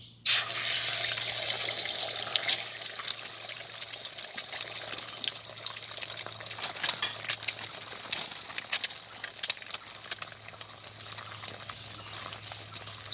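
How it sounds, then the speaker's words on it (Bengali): Egg dropped into hot oil in a village kitchen pan, a steady loud sizzle and crackle of frying that stays constant throughout, with no talking. "তেল গরম হয়ে গেছে, আমি এখন ডিমটা দিয়ে দিচ্ছি"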